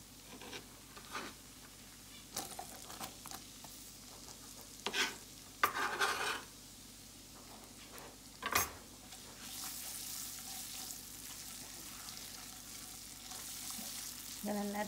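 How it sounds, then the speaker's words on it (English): Chopped onion frying in a pan that is already browning, a quiet low sizzle broken by scattered scrapes and stirring knocks, with the sizzle swelling louder toward the end. "I'm gonna add my chopped onion."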